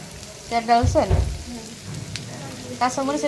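Fish frying in a pan with onion, a steady crackling sizzle close by, with a voice talking over it at times.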